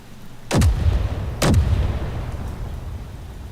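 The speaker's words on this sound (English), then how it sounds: "So, I better just take control of the artillery turret." Two heavy booms from an artillery turret in the Space Engineers game, each a sharp blast with a decaying rumble, about a second apart, loud and alone with no talk.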